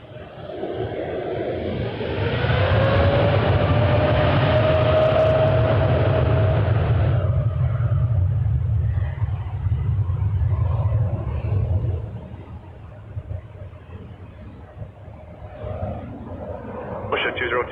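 Boeing 787 Dreamliner jet taking off at Toronto Pearson: a heavy engine roar swells to a loud, rumbling peak with a rising whine, then gradually recedes into the distance, with radio voices talking throughout.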